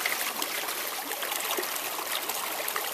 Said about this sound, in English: All I need to do is take this mug and dip it in this beautiful stream.